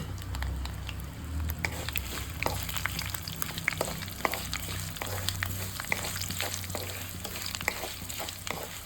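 Ten dried red chillies crackle in hot oil for a pickle, a continuous close sizzle dotted with sharp, irregular pops and spatters throughout.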